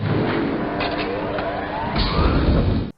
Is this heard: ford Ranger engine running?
yes